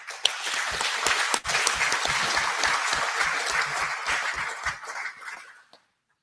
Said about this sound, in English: Let's give a big hand of applause to SPC.